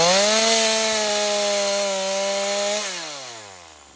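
A 2013 Homelite chainsaw cuts through wood, its engine droning loud and steady under load for a few seconds before the pitch falls as the cut finishes.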